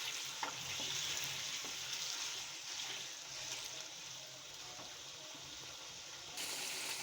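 Chicken kadai masala frying in a pan, a quiet, steady sizzle with occasional spoon scrapes and stirs turning the pieces, heard close and alone.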